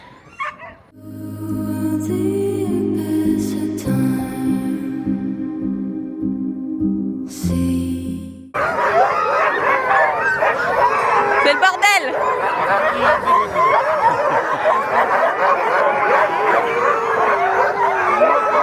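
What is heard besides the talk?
sled dogs barking and howling in Tromsø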